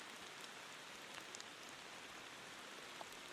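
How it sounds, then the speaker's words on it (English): Rain in the driving game Motor Town, an even wash of rainfall with faint scattered droplet ticks, soft and steady throughout with no talking. "I do like the sound of the rain in this game."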